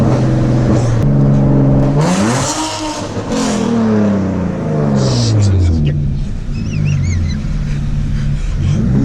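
A Nissan 370Z Nismo's loud, raw straight-piped exhaust revs up and down in several sharp pulls at about quarter throttle, with an idle rumble between blips and a voice over it.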